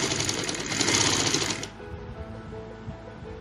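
Sewing machine stitching the seam of a box-pleated girls' frock, a loud steady whirring run for about a second and a half, then cutting off to a low quiet room hum.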